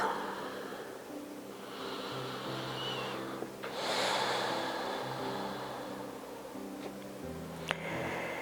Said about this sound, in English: Keeping the breath moving in and out through the nose.